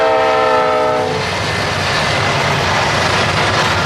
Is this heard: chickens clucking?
no